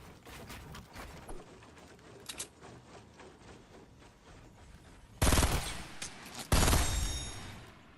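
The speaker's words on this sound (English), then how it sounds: "people love shooting me from the back" Gunfire in Fortnite on console, rapid clattering shots and mechanical building clicks at first, then two loud close bursts of fire near the end.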